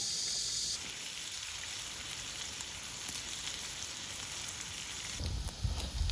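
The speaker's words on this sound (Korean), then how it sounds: "감자 튀기고 있어" Steady, close sizzling of potatoes frying in hot oil at a campsite, a continuous crackling hiss with a brief louder burst near the end.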